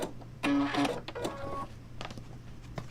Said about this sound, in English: So I'm sewing on the marked line